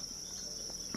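Crickets on a cricket farm chirp in a steady, high continuous trill, with a faint tap near the end.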